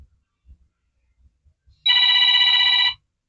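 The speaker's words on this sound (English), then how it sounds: "sorry about the phone" A telephone rings once in a quiet workshop, a loud steady electronic trill lasting about a second, preceded by soft handling knocks and faint low thumps.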